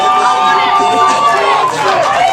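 A crowd at a professional wrestling show reacts to a wrestler, a dense roar of cheering and chatter that fills the arena at close range, with commentators talking over it.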